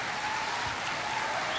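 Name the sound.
congregation applauding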